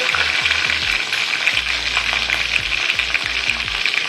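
Curry leaves and asafoetida crackle and sizzle steadily in hot oil for a tempering, a dense continuous frying hiss with a few low pops, close and fairly loud with no talk.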